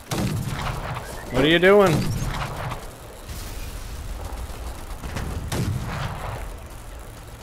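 Gunfire from the Fallout: The Frontier mod of the video game Fallout, with sharp shots and broadband bursts in a busy game mix, heard alongside a voice talking and a brief tonal swoop.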